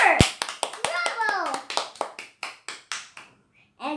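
A child claps hands in a quick series of sharp, close claps, about a dozen in four seconds, with a voice speaking over and between them.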